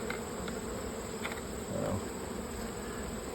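Honeybees at an open hive during fall feeding buzz in a steady, dense drone close by, constant throughout with a slight swell near the middle.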